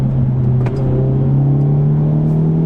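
Synthetic car engine sound piped into the cabin in high performance drive mode, a steady loud droning hum with a slight rise in pitch, heard alone without talk.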